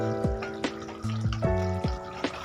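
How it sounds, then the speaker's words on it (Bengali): Hot water is poured into a pan of boneless chicken curry, making close, bubbly gurgles and splashes in several uneven glugs over about two seconds, with no voices. "এইবার এর মধ্যে দিয়ে দেব পরিমাণ মতো গরম জল।"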